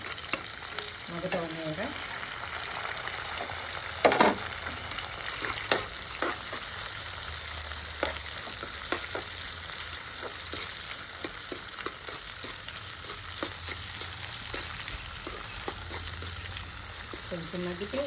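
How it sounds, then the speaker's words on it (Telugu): Chopped onions fry in a pan with a steady, fairly quiet crackling sizzle and scattered stirring clicks, and a voice briefly speaks near the start and again near the end. "కట్ చేసుకున్న ఉల్లిపాయలు కూడా వేసేసానండి."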